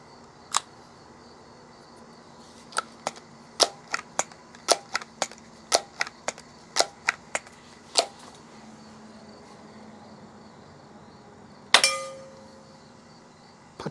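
A Daisy 35 .177 air rifle fires Crosman Premier 10.5 grain pellets at backyard targets, a string of about fifteen sharp, crisp snaps at uneven intervals over faint outdoor ambience, ending with a louder metallic clang.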